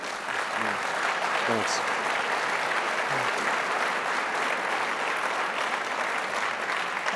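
A lecture audience at a talk on American presidents and war applauds in a thick steady wash that holds the whole way through, with a brief spoken thanks and a few voices rising over the clapping.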